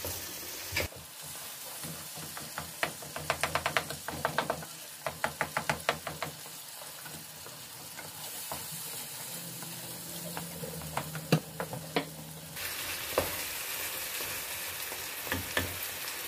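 Brain (bheja/maghaz) fries in a pan with a continuous sizzle and repeated stirring clatter, as a spatula taps and scrapes the pan in an irregular rhythm.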